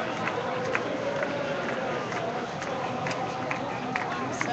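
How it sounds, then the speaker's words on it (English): A large crowd at a solidarity rally in Chicago, a steady wash of many overlapping voices and milling bodies outdoors, continuous and fairly close with no single voice standing out. "this crowd is getting pretty big"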